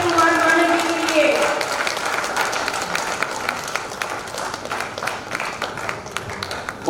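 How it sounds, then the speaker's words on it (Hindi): Audience applause after a historical stage drama, a dense, steady wash of many hands clapping close by for the whole stretch, with a voice speaking over the opening moments. "जोरदार तालियां कुमार मानव जी के लिए।"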